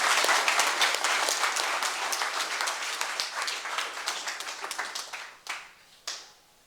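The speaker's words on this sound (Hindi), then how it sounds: "तालियों के साथ स्वागत करेंगे।" An audience at a yoga workshop in a college setting claps in welcome, a dense, lively round of applause that thins out toward the end, leaving a couple of last scattered claps.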